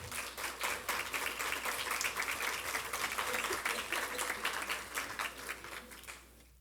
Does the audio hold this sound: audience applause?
yes